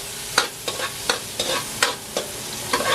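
Ginger and a beef cube fry in a pan for dinuguan while being stirred, the steady sizzle punctuated by about eight rhythmic scrapes of the utensil, close and clear with no talking.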